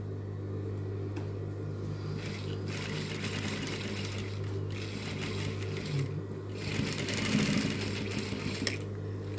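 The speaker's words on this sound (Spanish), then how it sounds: "voy a hacer este pespunte en la parte de arriba de la pretina" A sewing machine runs steadily, topstitching along the top edge of a waistband, giving a constant low motor hum with a faint rhythmic stitching texture that swells slightly near the end.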